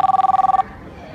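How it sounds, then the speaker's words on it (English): A telephone rings during a call: a rapid electronic ring of about a dozen quick pulses over half a second, fairly loud and alone, then it cuts off into quiet room tone. "She's not answering the phone."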